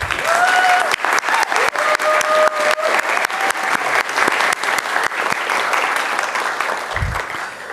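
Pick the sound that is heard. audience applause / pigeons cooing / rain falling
audience applause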